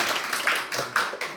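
A church congregation at a Sunday service in London claps in thanks after a scripture reading, a short burst of close, fairly loud applause lasting just over a second.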